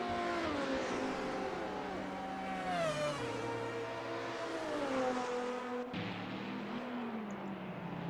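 Racing cars in a video game roar down two long straights at Adelaide, their engine notes rising and falling in steady, continuous drones as several cars pass close together.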